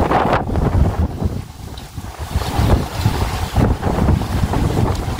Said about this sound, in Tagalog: Ang laki talaga ng mga alon.